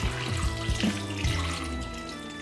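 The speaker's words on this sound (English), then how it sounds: "so let's get that poured back in the jug" Blueberry mead is poured back into a jug, a close, continuous trickling and gurgling of liquid with small bubbling splashes throughout.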